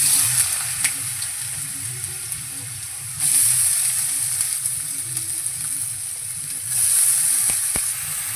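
Chopped potatoes frying in hot oil in a wok, a continuous close sizzle with a low bubbling undertone that swells louder in two stretches, plus occasional sharp clicks near the end.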